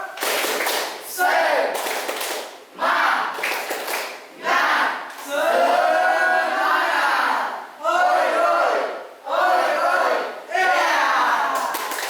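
A classroom of schoolchildren chants the rhythmic Indonesian 'tepuk semangat' clap routine, loud group voices broken by bursts of sharp unison clapping, repeated several times with short pauses.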